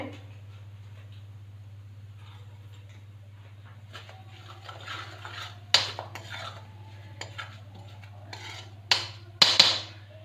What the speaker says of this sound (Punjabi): ਸਾਰੇ ਮਸਾਲੇ ਨੂੰ ਆਪਾਂ ਚੰਗੀ ਤਰ੍ਹਾਂ ਮਿਕਸ ਕਰਾਂਗੇ